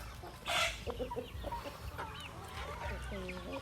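Native chickens cluck softly nearby amid rustling and a brief loud noise, with people talking quietly in the background.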